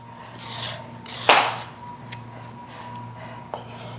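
Seeds are scraped out of an old, tough zucchini with a few short rasping scrapes, one louder stroke and some fainter ones, against a low background hum.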